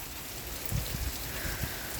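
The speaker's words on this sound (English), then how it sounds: "I heard the rain on the roof and yeah, we had heavy rain" Heavy rain patters steadily on a roof, a soft, dense hiss with a few heavier drips and thuds, faint and continuous.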